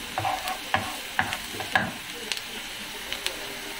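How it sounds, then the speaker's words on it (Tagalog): Garlic sizzles as it browns in a pan, with a soft steady fry under a series of sharp scraping stirs from a utensil, close and rhythmic, with no talking. "Brown natin ng konti yung bawang."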